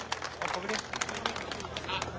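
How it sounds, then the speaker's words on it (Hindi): A crowd at an RLP political rally in Kuchera claps to welcome a speaker, giving a busy, moderately loud patter of many hands over background voices. "जोरदार तालियों से इस बेटी के लिए स्वागत है"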